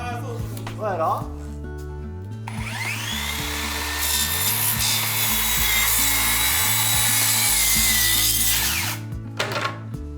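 A power saw cuts a long cedar plank for a sloped stairwell ceiling, its loud whine building after handling knocks and continuing steadily for several seconds before stopping, with someone speaking over the start.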